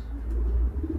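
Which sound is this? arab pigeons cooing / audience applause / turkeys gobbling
arab pigeons cooing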